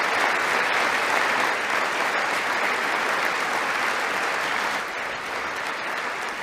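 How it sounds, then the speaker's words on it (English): Sustained applause from a large crowd, a steady dense wash of clapping that holds loud and even, dipping slightly near the end, with no voices standing out. "Can we get some goddamn claps for our brave boys?"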